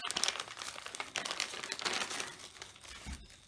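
Plastic packaging around a Motone Customs fuel cap adapter is handled up close, giving quiet, irregular crinkling and crackling bursts with a few soft tearing sounds.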